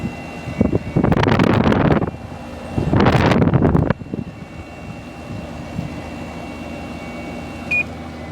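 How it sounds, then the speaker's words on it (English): Gusty outdoor wind beside a Samsung 10,200 BTU air conditioner, two strong roaring bursts buffeting the microphone, then settling to a quieter steady hum from the unit. "It's kind of windy out here today."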